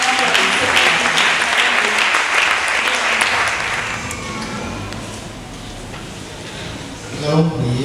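Audience applause and cheering at a church seminar gathering, a loud dense wash of clapping that gradually thins and quiets, with voices mixed in near the end.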